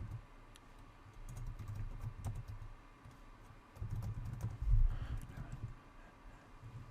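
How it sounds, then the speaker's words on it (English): Quiet, brisk typing on a computer keyboard, with light irregular key clicks in short bursts close to the mic while an email is composed. "Just type subject test and hit send."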